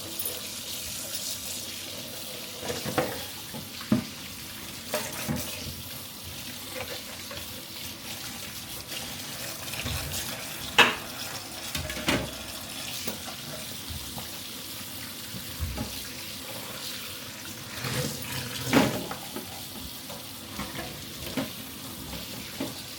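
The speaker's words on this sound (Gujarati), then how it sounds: "બધા બોક્સ ધોઈ કાઢીએ પહેલાં" Rubber ice cube boxes are rinsed by hand under a running kitchen tap, a steady broadband rush of water with occasional louder splashes and knocks as the trays are handled, close and continuous with no talk.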